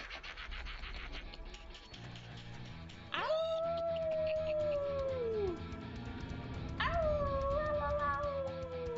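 Eerie creatures hoot and howl in a dark fantasy setting, with long rising and falling wails that swoop in twice over a dense droning bed, loud and reverberant as if echoing from a distance.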